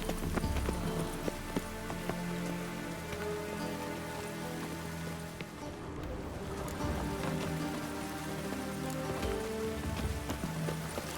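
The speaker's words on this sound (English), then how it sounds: "The rain will ruin it." Steady rain pours throughout in The Witcher 3, a dense continuous patter on surfaces with horse hooves clip-clopping and game music running underneath.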